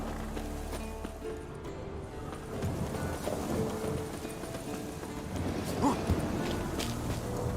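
Horse hooves clip-clopping on the ground in The Witcher 3, a quiet, steady walking rhythm over low ambient background.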